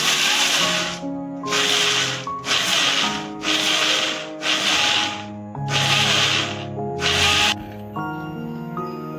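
Mixer grinder grinding cashews into marzipan dough runs in seven loud whirring bursts with short pauses between them, followed by quieter music after the last burst.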